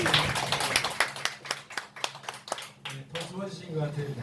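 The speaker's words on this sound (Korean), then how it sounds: "박수 한번 주세요." Church congregation clapping at a service, a short burst of rhythmic, fairly close hand claps that fades as a speaker resumes talking.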